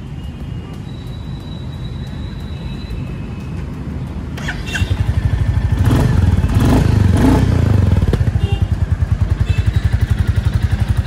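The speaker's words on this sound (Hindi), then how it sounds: "तो आपको मैं बाइक स्टार्ट करके दिखाता हूँ और आपको इसका साउंड सुनाता हूँ कि कैसा आता है" A 2022 Royal Enfield Classic 350 motorcycle, Signals Marsh Grey edition, starts up after a quiet stretch and settles into a steady, close thumping single-cylinder idle with a brief rev, and no talking over it.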